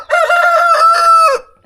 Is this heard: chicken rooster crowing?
yes